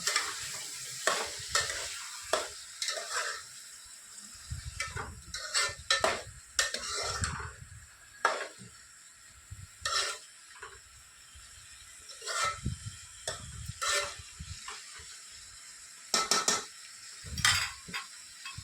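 Cut corn kernels frying in a pan for an American corn vegetable dish give a soft, steady sizzle, broken up by repeated scrapes and clinks of a spoon stirring against the metal, close up and fairly quiet.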